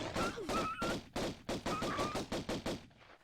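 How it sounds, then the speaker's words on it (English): Rapid gunfire from the original PlayStation-era Tomb Raider game rattles in repeated bursts, a dozen or so sharp cracks in quick rhythm, fairly faint and distant-sounding, with a brief voice mixed in. "Just hearing these PlayStation 1 ass gunshots in the distance."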